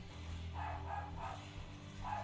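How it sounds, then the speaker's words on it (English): A dog howls along to a song, giving four drawn-out howls at a faint level over low, steady musical tones. "the dog singing the song over people as I'm trying to stream"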